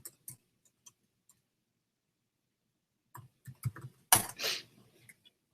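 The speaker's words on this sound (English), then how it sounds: "Using two different keyboards here." Typing on a computer keyboard, sparse clicks early, then a quick burst of keystrokes with one louder clack, close and fairly faint with no talking.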